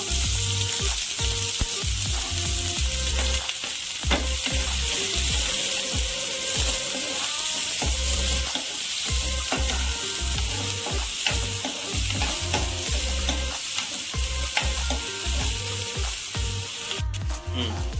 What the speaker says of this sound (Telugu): ఇది ఇలా కలుపుకుంటూ ఫ్రై చేసుకోవాలి.